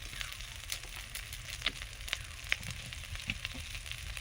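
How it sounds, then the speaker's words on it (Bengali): Mustard oil sizzles steadily in a hot pan where prawns were just fried, a soft continuous frying hiss dotted with small crackles and pops. "এবারে কিছুটা সরষের তেল দিয়ে দেবো।"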